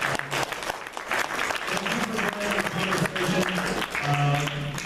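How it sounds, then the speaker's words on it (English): Audience applause for panelists at a 2018 midterm election panel discussion, continuous clapping from a crowd with voices and some tonal sound mixed in beneath it. "a round of applause for each of our panelists"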